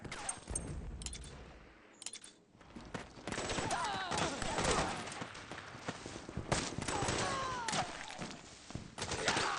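Suppressing gunfire in the video game Metal Gear Solid 4, with dense bursts of shots and thuds over a constant battlefield din and some shouting.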